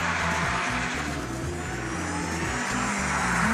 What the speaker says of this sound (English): I'll try some handbrake turns.